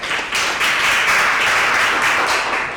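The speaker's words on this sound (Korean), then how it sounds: "다시 한번 큰 박수 주시면" A conference audience at a forum on energy transition applauds the presenters and discussants, a dense, steady round of clapping that swells quickly and holds for a few seconds.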